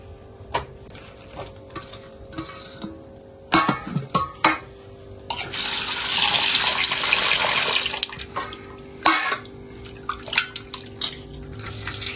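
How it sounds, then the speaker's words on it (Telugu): Cleaned raw prawns are rinsed in a bowl under a running tap, water rushing and splashing in the middle with clinks and knocks of the dish before and after, close by and no talking. "ఇలా క్లీన్ చేసుకున్న తర్వాత వాటర్తో శుభ్రంగా కడుక్కోవాలి"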